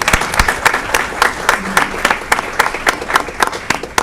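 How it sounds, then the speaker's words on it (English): Loud applause from the audience in a city council meeting room, a dense run of claps for an honoree standing for recognition, close and steady for several seconds. "Give her a round of applause."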